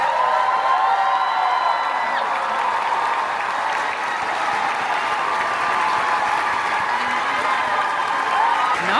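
Audience applauding at a doctoral graduation ceremony, a dense, sustained wash of clapping from a large crowd that holds steady throughout.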